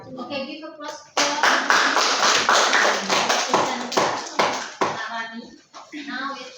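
Classroom applause from a group of students, a burst of clapping lasting about five seconds that starts abruptly after a short spoken prompt, with children's voices talking before and after.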